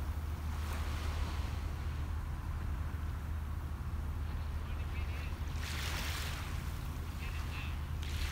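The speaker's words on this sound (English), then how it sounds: "Like today's waves sound different than Saturday's," Steady ocean surf washing onto a beach, a continuous broad roar with light wind buffeting the microphone, fairly distant and even throughout with no talking.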